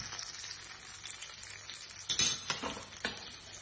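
Butter sizzling and frying in a hot pan, a steady soft crackle throughout with a few louder sputters and clinks of a utensil near the end.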